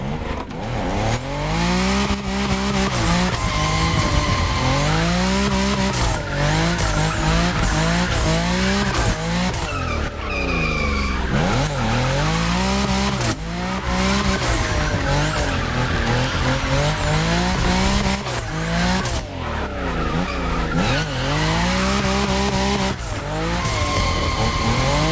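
A car drifting in the racing game TC Motorfest, tires squealing continuously over a loud revving engine, with wavering pitch as the slides shift across a sustained, dense stretch of noise.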